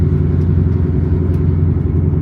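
A 2006 Corvette C6 V8 idles with a loud, steady, deep rumble, close and continuous with no pauses.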